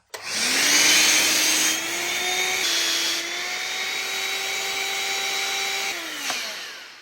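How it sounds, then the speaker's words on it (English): An Electrolux Superbroom vacuum cleaner runs alone with a steady, loud motor whine that shifts pitch slightly partway through and winds down at the end. "Let's see how powerful the suction is on this vacuum cleaner."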